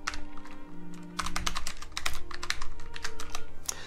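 Rapid clacking keystrokes on a computer keyboard in a bursty, uneven rhythm, close and fairly loud over a low steady background hum, with no voices.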